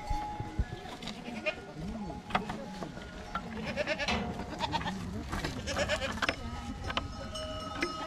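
Goats bleat repeatedly in a village farm pen, several nearby animals calling over one another in uneven, overlapping cries against steady background rustling.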